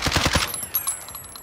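Rapid gunfire in a military shooter video game, a quick burst of four or five close shots followed by fainter scattered shots fading into the distance.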